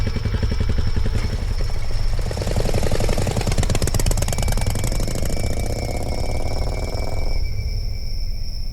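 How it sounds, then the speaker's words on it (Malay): A motorcycle engine drones steadily and close by, its rattling, pulsing note shifting in pitch as the rider travels, then thinning out near the end with a lingering whine. "Akhirnya dia menunggang motosikal ke sekolah anaknya."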